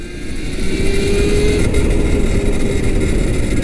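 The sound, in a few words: electric motorcycle accelerating at full throttle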